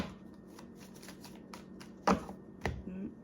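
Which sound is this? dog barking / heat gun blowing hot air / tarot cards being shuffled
tarot cards being shuffled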